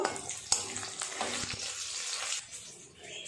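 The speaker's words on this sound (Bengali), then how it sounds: "পটলগুলো দুটো পাশ এইভাবে ভেজে নেব।" Pointed gourds fry in oil, turned to brown both sides, giving a quiet, uneven sizzle with a couple of sharp utensil clicks early on; the hiss thins out and fades toward the end.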